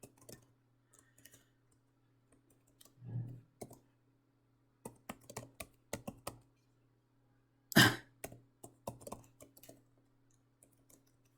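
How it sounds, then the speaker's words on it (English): Scattered keystrokes on a computer keyboard while Python commands are typed into a notebook, quiet and sparse clicks in short bursts with one louder clack, over a faint steady hum. "We can use a notebook to type Python command."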